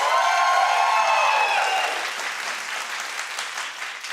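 A studio audience bursts into loud applause that starts strong and gradually eases off, with a dense wash of clapping throughout.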